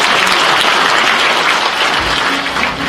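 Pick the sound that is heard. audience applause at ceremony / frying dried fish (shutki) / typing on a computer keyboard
audience applause at ceremony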